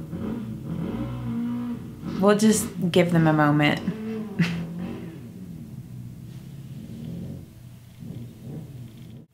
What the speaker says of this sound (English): There's like somebody with a motorcycle and they were like revving it